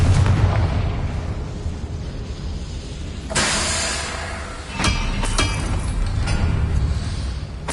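Confringo fire spells in the Hogwarts Legacy video game, heard as several sharp booming blasts over a constant rumbling game soundscape, with a big hit followed by a couple of quicker bursts.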